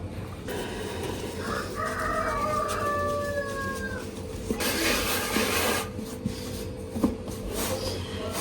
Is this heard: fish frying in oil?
no